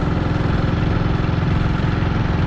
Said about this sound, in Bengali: ওর বাইকে করে আমি যাচ্ছি